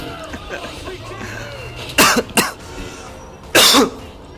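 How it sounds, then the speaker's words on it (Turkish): A man bursts into two short coughing bursts around a laugh, the first a double cough and the second a single harsh one, close and loud over quieter game sound and murmuring. "gülmekten öksürük tuttu"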